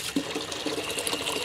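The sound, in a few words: squirting dish soap into a gallon of water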